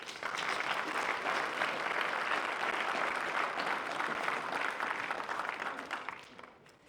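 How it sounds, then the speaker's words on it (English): Audience applause at a formal welcoming ceremony, a sustained wash of many hands clapping at close range that holds steady before tapering off at the end. "Can we applaud her?"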